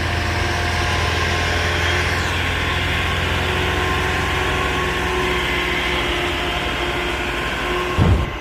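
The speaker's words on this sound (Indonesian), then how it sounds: "Truk kodok" A Mitsubishi "kodok" truck engine idles with a steady, heavy low rumble that holds evenly throughout, with a brief louder bump near the end.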